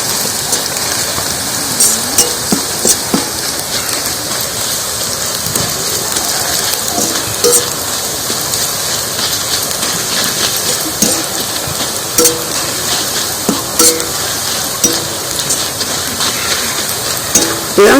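Shredded potato jhuri deep-frying in hot oil, a steady dense crackling sizzle with occasional sharper pops and stirring clinks, continuous and close for the whole stretch, no voices.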